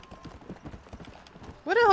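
A horse in the video game Red Dead Redemption 2 clip-clops at a steady walking rhythm with quick, close hoof beats, then lets out a loud, sharp neigh at the end.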